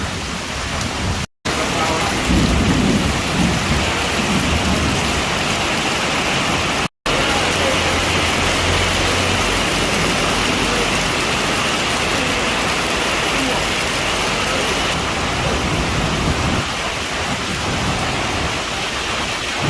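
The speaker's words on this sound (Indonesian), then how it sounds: "hujan deras disertai petir dan angin kencang" Heavy, steady rain roars continuously with a dense hiss during a storm with lightning in Krueng Mane, North Aceh, low rumbles of thunder and gusting wind underneath, and a voice speaking faintly beneath it.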